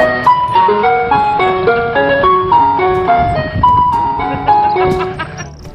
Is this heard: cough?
no